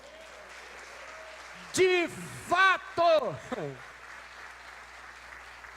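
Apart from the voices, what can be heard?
audience applause in church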